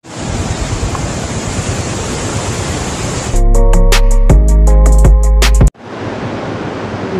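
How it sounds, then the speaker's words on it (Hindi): Loud, roaring rush of a river in heavy flow, grey silty water near Skardu, a constant broadband wash dominating the scene, briefly cut by an abrupt electronic-sounding interruption before the roar returns. "पीछे दरिया का बहुत ज़्यादा पानी का बहाव है, बहुत ज़्यादा शोर है"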